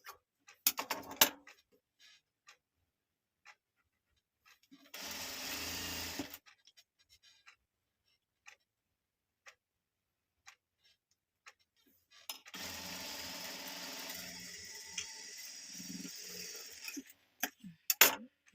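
A normal domestic sewing machine stitches a zigzag pattern, running in two steady mechanical bursts of about one and five seconds separated by quiet pauses, with light clicks and handling noises between them.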